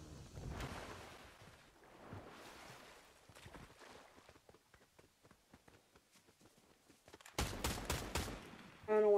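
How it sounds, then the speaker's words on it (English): Faint gunfire in the video game Fortnite: scattered light rapid shots pop through a quiet stretch, then louder sustained bursts rattle near the end. "I don't know why it started shooting."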